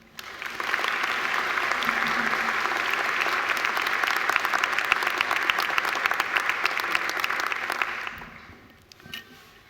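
Audience at a Macquarie University graduation ceremony applauding to welcome a speaker to the stage, sustained dense clapping from a large crowd that rises quickly, holds steady for several seconds and fades away near the end.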